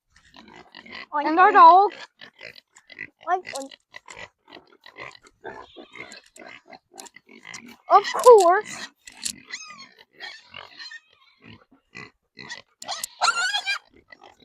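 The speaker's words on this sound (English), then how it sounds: "We got our pigs right here" Pigs on a farm grunt and oink in a few short, loud bursts spread across the scene, close by, while a person talks in between.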